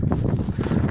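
Cold wind gusting across a frozen lake during winter fishing, buffeting the microphone in a continuous low, rough rumble with no voices.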